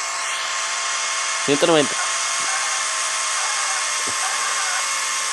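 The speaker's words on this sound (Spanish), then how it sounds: "el motor no me gusta cómo se oye. Se oye como que muy forzado." A strained car engine in a driving video game, a steady high-pitched whining drone held throughout, with a voice briefly speaking over it.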